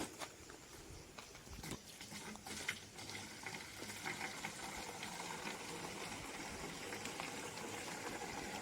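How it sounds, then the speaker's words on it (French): Water poured into a half-filled container of Agromax fertilizer mixture for rubber trees, then shaken hard, giving a steady sloshing, churning wash of liquid that carries on without a break, fairly close and moderately loud. "Et on va renverser de l'eau dedans et bien secouer."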